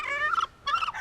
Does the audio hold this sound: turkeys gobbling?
yes